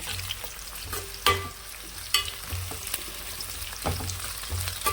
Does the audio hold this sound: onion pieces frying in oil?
yes